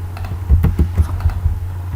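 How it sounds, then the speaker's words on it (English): Close-up keystrokes on a computer keyboard make a quick series of about eight crisp clicks in an uneven typing rhythm, heard alone. "press the delete key on your keyboard"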